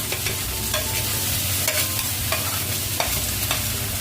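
Carrots and potatoes go into a hot pan for a Filipino bangus and shanghai dish, sizzling steadily while a utensil scrapes and stirs in repeated strokes, close and clear with no talk.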